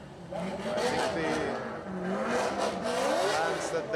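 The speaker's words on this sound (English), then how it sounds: "we will all hear that beautiful melody of Lauri Heinonen's NASCAR engine" The NASCAR engine of Lauri Heinonen's race car at an IPDC event revs up and down in repeated sweeping surges, with tire squeal mixed in. It stays loud and continuous throughout, under a commentator's voice.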